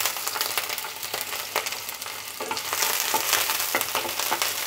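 Chopped onion and garlic sizzle steadily in hot mustard oil in a kadai, a dense crackling fry with occasional stirring clicks, close up and without talking.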